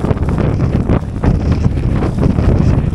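Strong coastal wind buffets the microphone in a loud, continuous roar with gusty swells while fishing from rocks at Trearddur Bay, with no talking.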